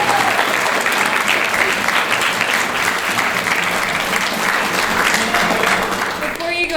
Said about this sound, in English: We have to give him one more round of applause.